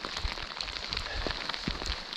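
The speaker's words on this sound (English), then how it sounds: "It's raining heavily" Heavy rain falls outdoors on a windy Scottish coast-to-coast walk, a dense, steady patter with scattered louder drop hits close to the microphone.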